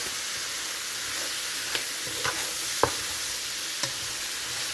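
Beef tripe curry with ground black pepper and spices is stirred in a frying pan, a steady loud sizzle with a few soft scrapes of the spoon, close up.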